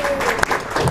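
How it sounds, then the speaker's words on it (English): Audience applause from a meeting crowd, a dense burst of clapping filling the short moment, fairly loud and close with no talking over it. "huge round of applause"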